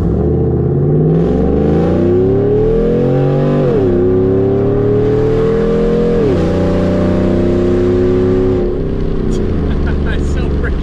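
A 4x4 vehicle launches hard, its engine roaring loud and close as the pitch climbs through stepped gear changes for several seconds before easing off near the end.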